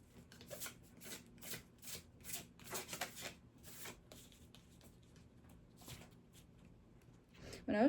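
Oracle card deck being shuffled, a run of soft riffling bursts repeating close by at a quiet level, with low murmuring talk underneath and a brief louder rustle at the end.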